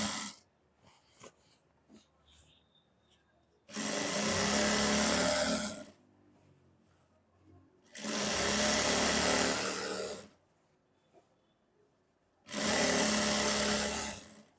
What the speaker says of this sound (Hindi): अब यहाँ पर हमें देखिए किनारे की सिलाई लगा देनी है।